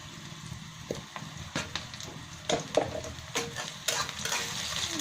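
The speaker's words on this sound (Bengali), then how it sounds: "ভালো করে ভেজে নিচ্ছি আমি" Chopped onion and green chili frying in oil in a pan with salt, gentle sizzling beneath intermittent stirring scrapes and clinks of a utensil against the pan, no talk.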